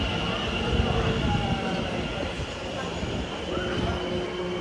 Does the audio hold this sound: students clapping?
no